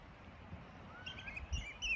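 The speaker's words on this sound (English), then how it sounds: "Listen to those birds." Birds calling on a beach at Beadnell, Northumberland: faint high chirps and whistles rise above a low wash of wind and surf, with a brief louder call near the end.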